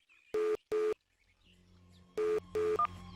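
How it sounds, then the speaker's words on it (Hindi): Four short electronic telephone dialing tones sound in two pairs, separated by a brief pause with a low hum, clear and close. "मैं तुम्हारे को अभी फोन कर रहा हूँ।"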